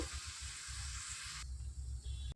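Onions frying in a pan with green chillies for coconut rice and chicken, giving a steady, close hiss of sizzling oil that continues throughout without talk.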